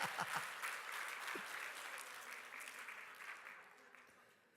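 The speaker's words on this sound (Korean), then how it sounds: "할렐루야, 박수." Congregation applause during a Korean church sermon in Texas, a dense patter of many hands that starts strong and slowly fades across several seconds, with a few brief voices breaking through near the start.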